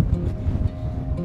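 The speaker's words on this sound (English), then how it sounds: "oh my gosh, it's so windy!" Gusty wind at the Buffalo Bill Dam Visitor Center buffets the microphone in low, uneven rumbles, with a faint steady hum underneath.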